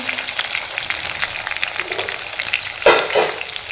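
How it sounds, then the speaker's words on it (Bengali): Potatoes fry in mustard oil in a wok with a steady close sizzle and intermittent stirring scrapes. A louder burst of clatter and sizzle comes near the end. "দেখতেই পাচ্ছ আলুগুলো আমার মোটামুটি হালকা হালকা ভাজা হয়ে গেছে"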